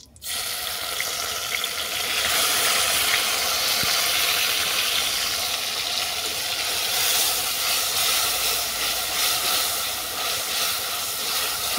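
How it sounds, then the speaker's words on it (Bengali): Grated tomato goes into a hot pan of oil tempered with chilli and panch phoron and bursts into a loud, steady sizzling hiss that starts abruptly and keeps crackling, with no talk. "এরপর তুলে দেবো গ্রেট করা টমেটো।"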